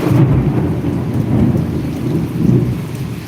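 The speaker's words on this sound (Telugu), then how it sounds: "ఉరుములు మెరుపులతో కరుణ విందుగా శ్రవణానందకరంగా అద్భుతమైన వర్షం" Heavy May rain pours in Adoni, Kurnool district, during a thunderstorm: a loud, dense roar of rain on surfaces with deep rolling thunder rumbling underneath, continuous and close.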